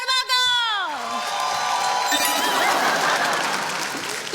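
A studio audience on a comedy show bursts into applause and cheering to welcome the host, a broad, sustained crowd roar. It begins after a short musical sting with a voice over it.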